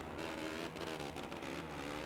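Motocross bike engine in the MXGP2 racing game, a constant loud buzzing drone with slight pitch shifts as the throttle varies, steady throughout with no voices.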